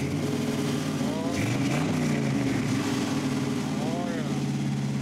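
An old car engine runs with a throaty, uneven rumble, revving briefly in the middle before settling back to a rough idle.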